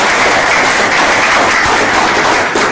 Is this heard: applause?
yes